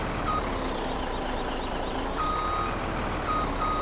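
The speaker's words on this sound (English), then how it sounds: "And as you can see, I am extending the arm here" A Blacksheep Modding 850 RC hook truck extends its arm, giving a steady electric whine with faint high beeping throughout, heard close and alone.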